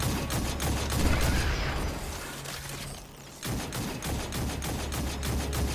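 Turrets in Destiny 2 fire rapid, continuous bursts of gunfire, a dense rattling fusillade that drops out briefly to a quieter hum before resuming at full intensity.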